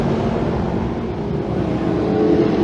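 Sportsman-class dirt track race cars during a heat race, engines roaring loud and continuous at full throttle with a steady, dense drone and no talk over it.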